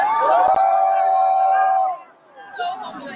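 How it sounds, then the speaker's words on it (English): A concert crowd at a show in Toronto loudly boos, a sustained, droning roar of many voices that holds steady for about two seconds, then drops away into quieter crowd murmur. "All right, look, they booing him"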